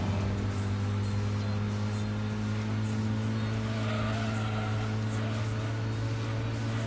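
A small car driving in the racing video game Gran Turismo 2, a steady droning engine hum that holds at a constant pitch throughout, loud and continuous with no talk.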